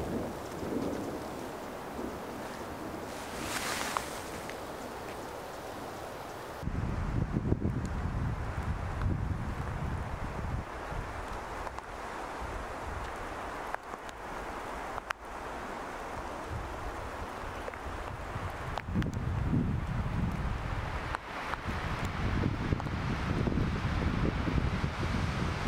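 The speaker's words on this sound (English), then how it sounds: "I don't think this rain and wind's gonna last very long" Outdoors during a raptor photography outing, rain falls while wind gusts buffet the microphone in heavy low rumbles, swelling and easing over a steady wash of rainfall with no talking.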